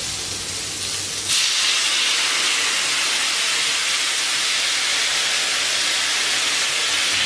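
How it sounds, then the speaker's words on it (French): Marsala wine hits a hot pan and erupts into a loud, steady sizzling hiss that holds evenly to the end after a brief quieter start. "on va baisser la température et puis on va verser le marsala"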